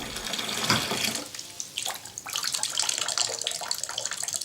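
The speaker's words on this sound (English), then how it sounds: "Jonathan and Tina must go through the most excruciating process of Jonathan's day, his bath" Water running into a bath, a continuous rushing splash with uneven gurgles and slight shifts in loudness, heard close and alone.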